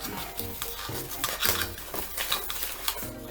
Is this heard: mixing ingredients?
yes